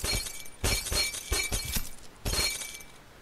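Glass shatters several times in the Happy Wheels video game, with bursts of breaking and tinkling shards in quick succession, the first and last crashes loudest.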